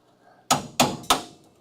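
A spot weld on a Dodge Charger crew cab conversion's frame rail pops loose as a crusty flange is pried apart, giving three sharp, loud metallic cracks spaced about a third of a second apart, close by with no talking.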